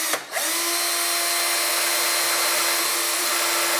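Close, loud power drill boring pilot holes for brackets in a wooden cabinet door, starting with a brief stutter and then holding a steady high whine with no speech.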